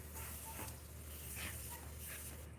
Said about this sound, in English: now we're spraying water.